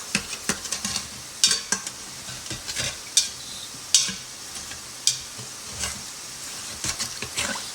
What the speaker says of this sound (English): We'll be scraping off those little bits.